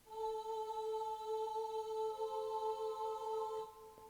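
GarageBand chamber choir preset playing a steady sustained vocal-style chord, alone and fairly soft, holding evenly for about three and a half seconds before a slight change near the end.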